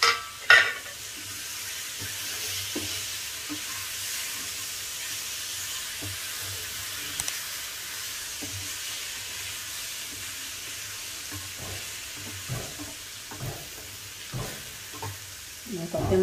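Tomatoes frying and stirring in a pan for bachali leaf tomato chutney, a steady sizzle with occasional stirring clinks and scrapes throughout, close and fairly loud, no talking.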